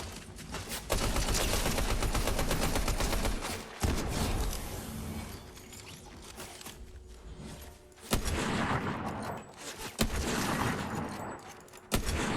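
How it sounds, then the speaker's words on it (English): A loud shootout in the Pokemon Scarlet video game: a few sharp, punchy shots stand out at irregular intervals over a dense, rumbling din of action. "Sorry if my shooting sounds are really loud."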